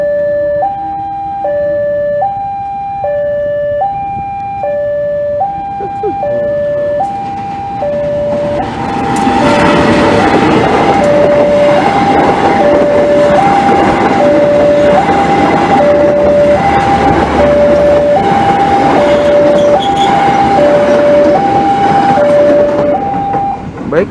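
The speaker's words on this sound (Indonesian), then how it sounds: "Sepertinya kereta api penataran Doho ya, dari Surabaya menuju tujuan akhir stasiun Blitar" Level crossing warning bells ding in a steady two-tone alternation near Blitar station in Indonesia, then the Penataran Doho passenger train from Surabaya rushes past loudly with a broad rumble and wheel noise while the bells keep sounding.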